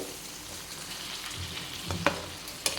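Pepper chicken fry tossed in a pan with coriander and mint gives a steady close sizzle with soft stirring scrapes and a couple of sharp clicks of a utensil against the pan.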